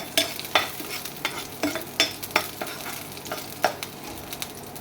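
Chopped garlic and onion fry in a pan for Chinese-style pasta, a soft steady sizzle broken by sharp intermittent scrapes of a spatula stirring at close range, with no voices.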